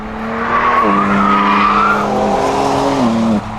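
A race car lapping the track at the Tour Auto, Beaune to Clermont-Ferrand stage, an engine whining up and down through gear changes as it passes, loud and steady for a few seconds.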